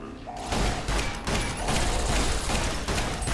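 Automated turrets open fire in Fallout New Vegas, a dense loud burst of rapid gunfire after a brief lull, with repeated overlapping shots and impacts sustained for a few seconds.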